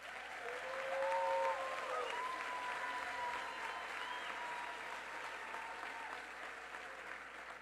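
An audience applauds at a ceremony in Brazil where Margareth Menezes takes office as Minister of Culture, a sustained wash of clapping heard from some distance, fairly soft and even throughout with a faint murmur of crowd beneath.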